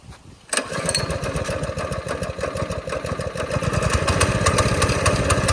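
A go-kart's small engine running with the choke on, a fast steady putter that starts abruptly and holds a busy, slightly rising drone, close and loud.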